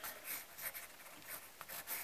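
A pencil or drawing tool scratches quickly across paper in short, soft strokes with a rhythmic rubbing pattern, close and quiet, with no one talking.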